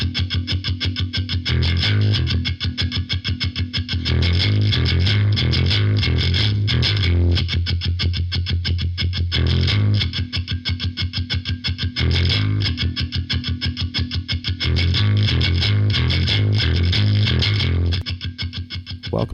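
Heavily distorted electric guitar chugging in loud, steady repeated riffs with a thick buzzing tone, playing alone without any voices over it.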